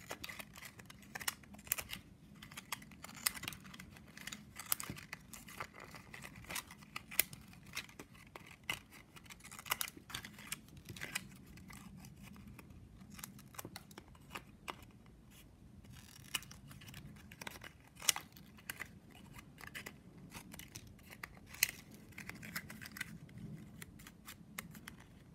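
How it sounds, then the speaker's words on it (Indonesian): Scissors snipping excess plastic strapping band while finishing a small woven hanging shoe vase, many quick close cuts and scratchy rustles in an irregular stream, no talking. "kita tinggal gunting ya semuanya"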